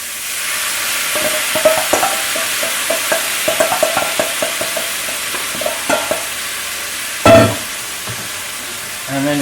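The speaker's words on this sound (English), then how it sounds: "And then just give it all a very good toss." Ravioli tossed with tomato sauce, basil and lamb in a hot pan, a steady sizzle under a string of quick stirring scrapes and clacks, then a louder clatter near the end.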